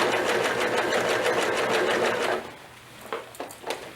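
Sewing machine running a wider basic stitch, a steady close, fast mechanical whirring and clatter for a couple of seconds that then stops, leaving a few quiet clicks.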